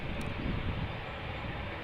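An American Airlines Boeing 787-8 Dreamliner at Amsterdam Schiphol gives off a steady, broad jet roar from a distance, even and unbroken with no voices.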